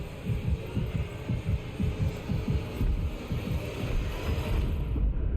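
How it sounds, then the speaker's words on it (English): Heartbeat in the game Death Stranding, a muffled, deep thumping pulse repeating in a steady rhythm over a low droning hum, fairly close and continuous. "Is that his heartbeat?"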